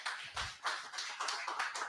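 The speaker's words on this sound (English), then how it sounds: "please give a round of applause to our panelists" A theater audience at a community meeting applauds its panelists, a soft, steady patter of many hands clapping, heard from a distance without voices.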